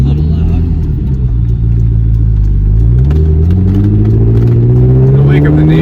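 A 1997 Lotus Esprit V8 twin turbo rumbles loudly from inside the cabin, its deep exhaust drone swelling as revs climb steadily, with a person talking over it.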